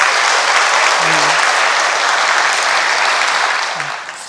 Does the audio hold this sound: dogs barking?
no